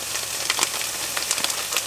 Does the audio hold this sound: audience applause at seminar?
no